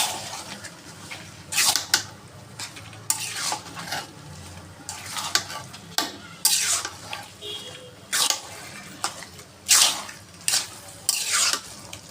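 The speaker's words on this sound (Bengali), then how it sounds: "একটু ভেজে নেব।" Khichuri made with cooked rice is stirred and fried in a pan, a spoon scraping the pan in repeated bursts over a low steady sizzle, close and fairly loud with no talk.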